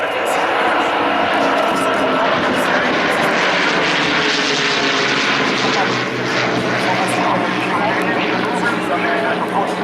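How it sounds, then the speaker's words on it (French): Propeller aircraft at an air show roar past in formation for a break over a yellow marker buoy, a loud sustained engine drone that swells and shifts. A commentator talks over it. "les avions arrivent face à vous pour l'éclatement, au niveau de la bouée jaune Bretling"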